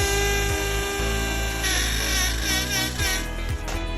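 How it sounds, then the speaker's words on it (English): A power drill whines steadily up close, its pitch dipping and surging as it bores pilot holes for lag bolts into wood, running continuously. "Now I'm gonna drill my pilot holes for my lag bolts"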